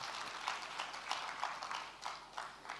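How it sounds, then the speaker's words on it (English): Faint, scattered applause from a student engagement session audience in Africa, with clearly separate claps popping irregularly out of a soft, distant wash. "Please, let's give a round of applause for Gerald for standing up."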